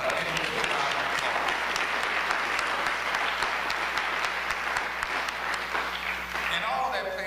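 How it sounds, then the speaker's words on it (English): A crowd at a university Martin Luther King and Black History convocation applauds its student ambassadors, sustained dense clapping filling a large hall, with a voice emerging near the end. "let's give our ambassadors a round of applause"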